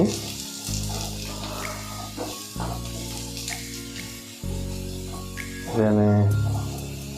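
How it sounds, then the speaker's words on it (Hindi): Onions sizzle steadily in hot oil while frying to a light brown for an aloo paneer matar masala, under a voice and a tonal background hum. "पियाज टी ब्राउन कलर हवा जाए फ्राए करवा"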